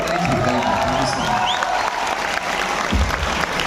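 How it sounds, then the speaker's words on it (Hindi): A large student audience at a university event applauds loudly, dense sustained clapping mixed with crowd noise and faint cheering throughout, with a little background voice. "एक बार सारे लोग जोरदार तालियां बजाएं"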